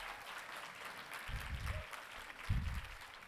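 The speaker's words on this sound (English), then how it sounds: "We need a huge round of applause for them right now." A conference audience at the SHAPE Conference 2023 opening session applauds the event staff, including catering, setup, AV and environmental services. Dense, steady clapping fills the room throughout, with a couple of deeper bursts of crowd noise rising within it.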